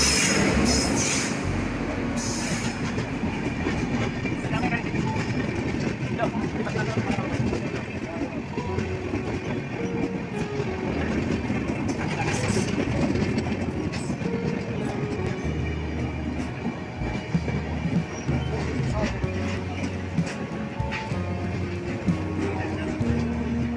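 A train arrives at Malkapur railway station with a loud, continuous rumble and rattle of carriages and wheels on the track, while voices murmur faintly on the platform.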